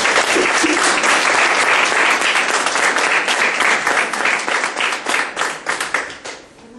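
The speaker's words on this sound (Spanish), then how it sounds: "le brindamos un aplauso" Seminar audience applause following a presentation, loud and close, many hands clapping densely before thinning into scattered claps and fading toward the end.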